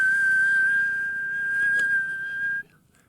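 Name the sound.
monotone whistle during a golf swing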